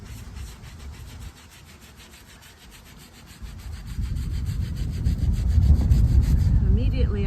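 Stiff brush scrubbing a veteran's stone headstone outdoors, a steady close rasping rub that grows louder and denser over the second half, with faint wind in the background.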